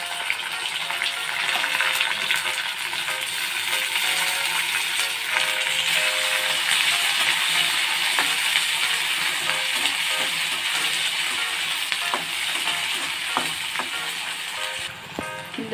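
Onions and green chillies frying in hot oil for a thotakura (amaranth leaf) fry, giving a steady, loud, continuous sizzle with no voices.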